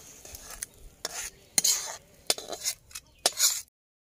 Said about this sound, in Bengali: এগুলো একটু ঘাঁটাঘাঁটি করে দেবো আর নামিয়ে নিচ্ছি